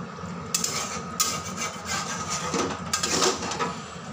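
Spoon scraping and stirring garam masala powder and sugar into a spinach and potato curry in a pan, a steady close rasping rub with a few sharper scrapes, no talking.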